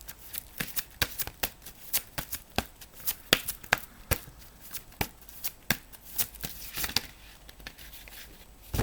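Large tarot cards shuffled by hand, giving a quick, irregular run of crisp papery slaps and flutters, close and fairly quiet, with no voices.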